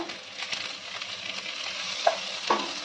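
Onion, garlic, capsicum and tomato sizzle and fry in a pan, a steady crackling hiss with soft stirring scrapes and a couple of sharper utensil taps near the end.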